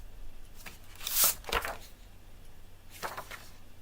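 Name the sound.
cutting patterned paper for a mini album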